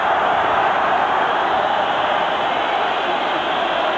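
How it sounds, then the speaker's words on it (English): A football stadium crowd at Lazio versus AC Milan waits for a free kick, a steady, dense roar of noise that holds at the same level with no breaks. "The crowd anticipate another Mihajlovic rocket shot."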